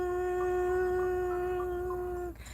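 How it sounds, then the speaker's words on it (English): A dog howls in one long, sustained, wavering note that holds steady and then breaks off abruptly near the end, loud and alone with no talking. "That was a dog."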